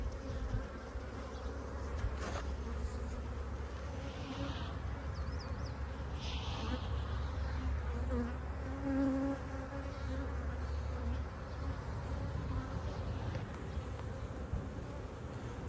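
A dense, steady drone of honeybees buzzing close by while a hive is opened for inspection, continuous and fairly quiet, with occasional individual bees passing near and no talk.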